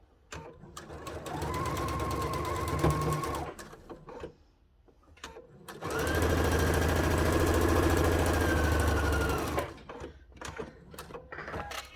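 A sewing machine stitches a cathedral window quilt panel in two sustained runs, a steady close mechanical hum broken by a short pause, with soft clicks and handling noise around it.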